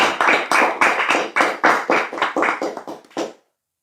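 About a dozen sharp claps ring out in a quick, slightly uneven run from a gathering at a religious sermon, close and loud, then stop abruptly into silence.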